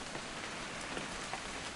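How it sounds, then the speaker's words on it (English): Steady rain falls in the video game What Remains of Edith Finch, a constant close patter of drops on surfaces that runs unbroken, with no voices. "It's gonna rain the whole weekend, isn't it?"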